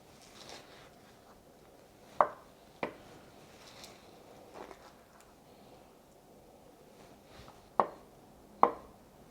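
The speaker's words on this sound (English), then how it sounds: "I'm slicing up an avocado" A knife slices through a scooped-out avocado on a board, giving a few crisp, sharp taps spaced across the stretch with a soft hiss between them, close and fairly quiet.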